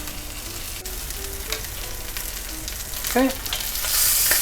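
Rack of lamb frying in a pan gives off a steady close sizzle with crackling and spitting that rises louder near the end, and a voice briefly speaks over it.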